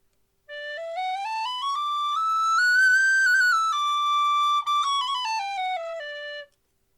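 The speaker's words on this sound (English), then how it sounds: "It's got a brass fipple, a Killarney whistle, and it's got a nickel coated brass tube." A Killarney tin whistle with a brass fipple and nickel-coated brass tube plays a clear, pure sustained melody close up, its notes rising, holding and falling smoothly with one brief break.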